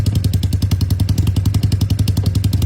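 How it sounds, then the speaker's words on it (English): A 1985 Honda Rebel bobber motorcycle idles through its exhaust pipes with a steady, choppy low thump, loud and close, and no voices. "Now I'm going to crank it up. We're going to see what these pipes sound like."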